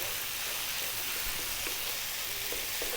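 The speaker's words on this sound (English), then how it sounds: "I'm now going to drop in my chili" Chili dropped into a pan for Ethiopian scrambled eggs and beef, frying with a steady, moderately loud sizzle and hiss, a few faint clinks underneath, no talking.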